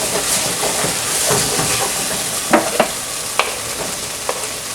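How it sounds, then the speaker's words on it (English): Flat knife scraping flour off the bottom of a soup pot while a creamy Hungarian cauliflower and mushroom soup cooks, a sizzling, stirring wash broken by several sharp scrape-clicks near and loud, no talk. "I use a flat knife and get it back down again. So it's down in the bottom. See? I just scrape it just a little bit."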